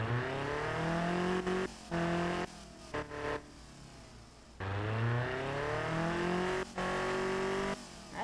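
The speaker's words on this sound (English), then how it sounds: "Let's listen to that engine if it actually works." A car engine built in the Automation game revs up and drops back in several bursts, each separated by short gaps, loud and close with no talking over it.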